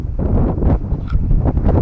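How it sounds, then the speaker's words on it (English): Strong gusty wind buffeting the microphone in an old rural cemetery in Winfield, Kansas, with low rumbling roar and fluttering bursts, close and uneven, with no talking. "It's a pretty day. It's just very, very windy."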